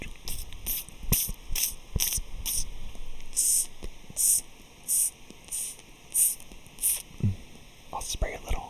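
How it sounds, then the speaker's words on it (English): Cleaner is sprayed onto a screen in a series of short, soft spritzes, close and quiet, repeating in a loose rhythm with brief gaps between bursts. "I'll spray a little, but I don't want it to get all wet over here."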